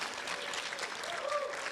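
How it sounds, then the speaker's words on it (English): A church congregation claps again for its senior minister, Dr. Moira Fox, producing a short, even burst of crowd applause with faint voices mixed in. "We can clap for her again."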